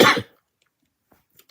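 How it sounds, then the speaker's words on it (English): A single sharp cough bursts out up close, then quiet follows with only a couple of faint ticks. "As I cough"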